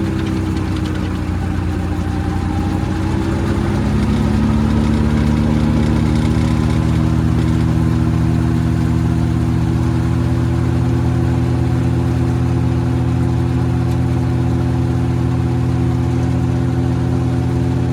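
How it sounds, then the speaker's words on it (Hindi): A tractor engine idles steadily with a low, throbbing drone and a cooling fan whirring along, loud and continuous throughout, with no voices. "अब सुनिए ट्रैक्टर के पंखे की आवाज़।"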